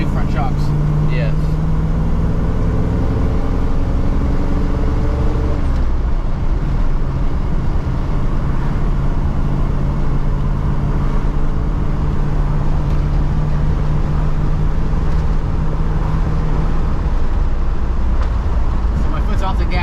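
A Ford Bronco engine idles steadily with the throttle released, a continuous loud rumble with a brief change partway through while people talk over it.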